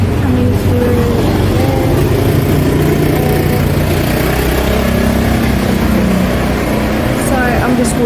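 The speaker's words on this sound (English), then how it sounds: "This is another bike coming through." A motorbike engine rumbles through a narrow alley in Bali, its low mid-pitched drone steady and fairly close, with a voice talking nearby over it.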